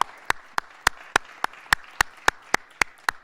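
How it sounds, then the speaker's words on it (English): A single pair of hands claps in a steady, evenly spaced rhythm, about a dozen crisp, close claps in quick succession with no other sound between them. "I would just like to give him a round of applause for Bernie Weinstein."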